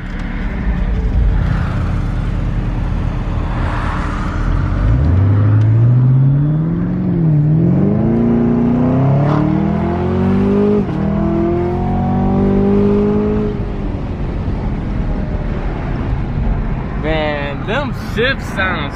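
A Chevrolet Camaro ZL1 with an automatic gearbox roars loudly up through its revs, pitch climbing and dipping through several shifts before settling, with voices talking over it.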